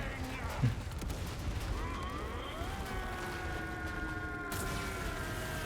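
A heavy grenade blast in Resident Evil 4 Remake booms early, followed by rumbling game noise and mechanical hum, with a voice talking briefly.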